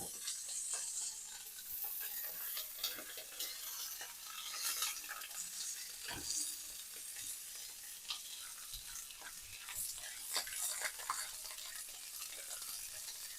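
Pork chops seasoned with salt and pepper sizzle steadily in a hot pan, with frequent sharp pops and crackles spattering throughout, close and continuous with no talking.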